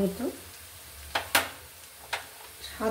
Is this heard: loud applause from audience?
no